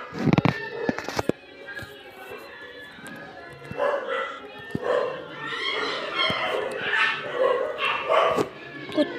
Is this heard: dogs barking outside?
yes